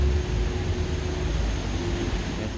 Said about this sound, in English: It's quite loud because you can hear the plane outside